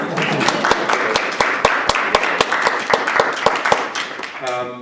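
A room full of people applauding, the claps fast, dense and even for about five seconds before fading, with voices rising toward the end.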